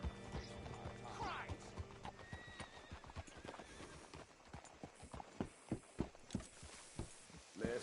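Horse hooves clip-clop in a steady walking rhythm in Red Dead Redemption 2, growing louder and sharper toward the end, with a brief whinny early on.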